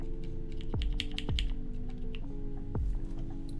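Keys clack in quick irregular taps on a custom mechanical keyboard under assembly, with a few louder thumps between, close and alone.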